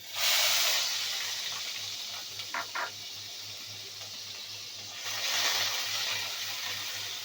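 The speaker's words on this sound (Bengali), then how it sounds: "নেড়ে চেড়ে এটা ভেজে নেব" Onion paste sizzles in a pan for a prawn malai curry, a loud hissing burst at the start that settles to a steady sizzle, a couple of brief knocks, then a second surge of hiss near the end over a low hum.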